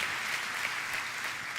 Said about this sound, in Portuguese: Pode dar uma salva de palmas novamente ao Senhor, em nome de Jesus.